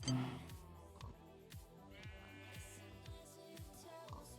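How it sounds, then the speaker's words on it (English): Sheep in a modded Minecraft game bleat several times in quick succession, with wavering, rhythmic cries that are fairly quiet and close, with little else around them. "Sheep."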